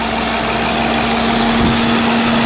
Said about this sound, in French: le V12 il chante super bien